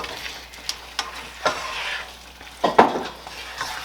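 Shepherd's pie filling simmers and sizzles steadily in a pan while a utensil stirs it now and then, adding a few scraping clicks up close, with no voices.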